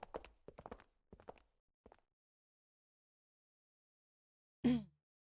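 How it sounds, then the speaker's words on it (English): Footsteps in the game Nine Hours, Nine Persons, Nine Doors, a single short burst of steps moving off after a stretch of silence, heard after brief talk earlier. "They heard footsteps moving away"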